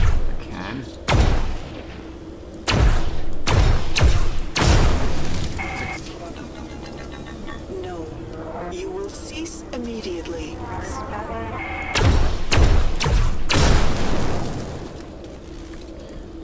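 Computer cores blowing up in the System Shock game, a series of loud broadband bursts and booms in two clusters, near and punchy, with a stretch of quieter ambient rumble and chatter between them.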